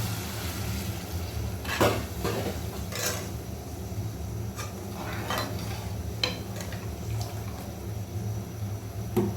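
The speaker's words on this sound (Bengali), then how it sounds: "জল ঘুরাতে গরম জল দিচ্ছি তাড়াতাড়ি হওয়ার জন্য" Hot water is added to fried spiced masala in a pan, a soft bubbling, churning sizzle with a few stirring clinks and scrapes, close and fairly quiet, with no talk.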